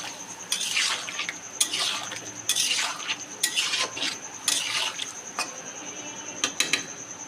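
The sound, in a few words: stirring and sautéing potato paneer curry in a pan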